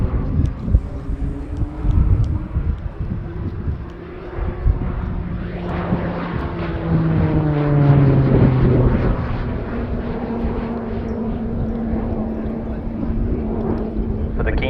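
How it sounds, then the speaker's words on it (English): Propeller drone of an RAF Shorts Tucano turboprop trainer flying a display at the RIAT airshow, a steady engine tone that swells and shifts pitch as it passes, with wind buffeting and a commentator talking over it throughout. "Liam's first season as a display pilot and the Tucano's very final year, so a very momentous occasion for 72 Squadron"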